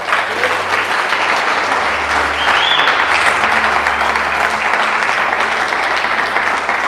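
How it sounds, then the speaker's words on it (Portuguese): A church congregation claps loudly and steadily for the Lord, a dense, sustained wash of applause that fills the room for several seconds, with a few voices faintly mixed in. "eu quero que você dê um forte aplauso ao Senhor"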